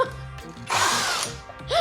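A power drill drives 2.5-inch pocket hole screws into 2x6 boards through a Kreg Jig 720 Pro. The motor whirs loud and close in one steady burst, with clicks and quiet handling on either side.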